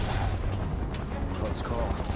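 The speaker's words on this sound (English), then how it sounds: "Open fire! Shoot to kill!" Shinra soldiers fire in Final Fantasy VII Remake, a dense continuous rattle of gunfire that fills the whole stretch, loud and noisy, with voices shouting over it.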